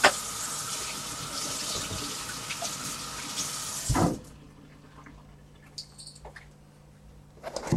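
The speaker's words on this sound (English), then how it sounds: "But before you want to wash your hands. Soap and water." Water gushes steadily from a tap for about four seconds during handwashing, then stops, leaving a quiet room with a few faint clicks and soft movement.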